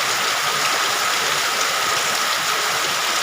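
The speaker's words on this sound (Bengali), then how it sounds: "প্রচুর পরিমাণ বৃষ্টি হচ্ছে" Heavy rain pours down in rural Jamalpur, a dense, loud, unbroken roar and hiss of falling water with no pauses or voices.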